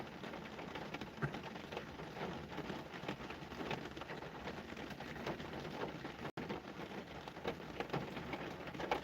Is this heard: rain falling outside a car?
yes